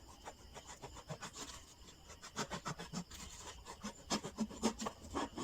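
A knife saws through an empty plastic bottle in quiet, rhythmic scraping strokes that grow slightly louder and quicker toward the end, with no talking.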